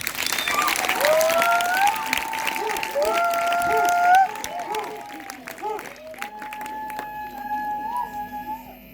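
Audience at a healing testimony gathering applauding and acclaiming, loud sustained clapping with shouted and sung voices rising over it, tapering after about four seconds into scattered cries and applause.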